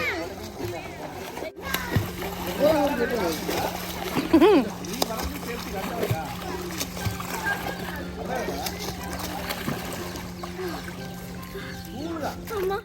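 Water splashes and sloshes as family members and a child play in a swimming pool, with intermittent close splashes under frequent talking and children's voices throughout.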